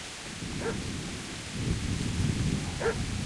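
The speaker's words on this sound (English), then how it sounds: "I hear a dog, by the way." A dog barks twice, faint and distant, in the video game Kingdom Come Deliverance, over a low rumbling backdrop of rain and possible thunder.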